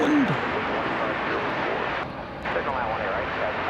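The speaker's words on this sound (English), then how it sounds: "It's another 737-800 American Airlines Flight 1095." American Airlines Boeing 737-800 jet airliner, Flight 1095 from McAllen, Texas, at DFW Airport, a broad steady engine roar holding loud and close throughout with a brief dip midway.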